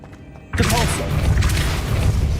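A Depulso spell going off in a Harry Potter video game, a sudden loud booming burst that stays dense and rumbling with crackling debris-like texture for about two seconds.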